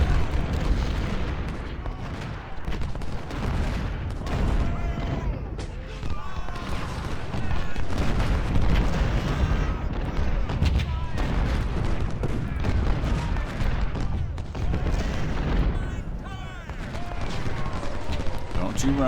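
Artillery fire in Ultimate General: Civil War during a Gettysburg battle, heavy booms and rumbling volleys rolling continuously through dense battle noise, with distant cannon blasts layered over steady crackling gunfire.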